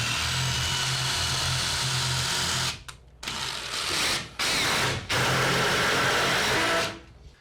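Power drill running in reverse to bore a pilot hole in wood, a loud continuous whine that stops and restarts in several bursts of varying length before winding down.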